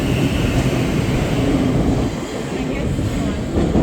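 A train rumbles steadily through a London rail station, a broad low roar with a constant hiss that dips briefly near the middle before swelling again.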